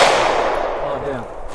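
A single loud SIG P365 FUSE pistol shot at an outdoor range, a sharp crack decaying into a long echo tail.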